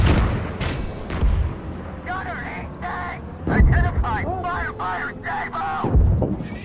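Tank cannon fire in the video game Gunner, Heat PC lands as a few heavy booms spaced seconds apart, with people talking and chattering in between.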